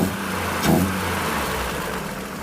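An old truck engine revs briefly with a short throttle burst near the start, then settles back to a steady, loud mid-pitched running sound with no talk.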